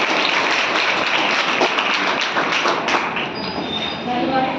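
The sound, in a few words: audience applause welcoming a speaker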